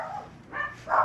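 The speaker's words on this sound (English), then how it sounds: "Now my dogs are barking." Pet dogs in a home that also keeps Matamata turtles bark in a couple of short bursts, the second louder and closer, with no talking over them.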